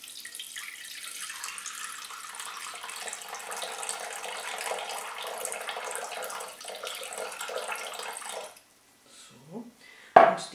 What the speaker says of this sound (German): als erstes geben wir jetzt das Wasser in den Thermomix